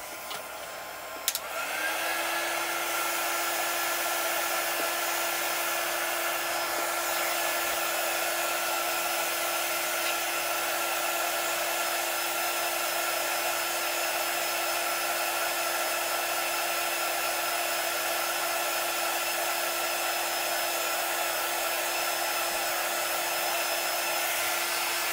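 Hair dryer blowing steadily to dry silver chalk paste on a stencilled bandana craft, a loud continuous whirring hum that switches on after a brief click and runs unbroken to the end.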